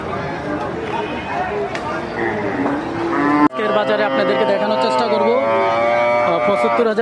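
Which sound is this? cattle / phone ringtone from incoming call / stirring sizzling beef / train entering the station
cattle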